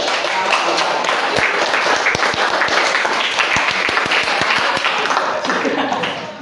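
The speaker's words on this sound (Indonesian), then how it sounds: "Terus, maksudnya tepuk tangan terus." Sustained group applause from a class of students, dense continuous hand clapping filling the room, steady and fairly loud throughout before tapering slightly at the end.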